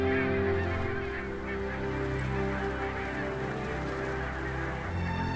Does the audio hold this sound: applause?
no